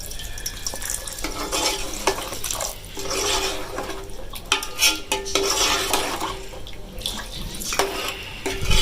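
Water poured into a pan of dal cooking with meat for Pakistani dal gosht, a steady splashing pour with stirring and clinking, close and alone without talk.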